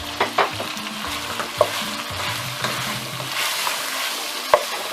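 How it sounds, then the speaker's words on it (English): Sliced red onion stirred into meatballs frying in a pan, a continuous close sizzle with soft scraping stirs and a few sharp clicks of the spoon against the pot, no voices. "So I'm going to add my sliced onion, red onion."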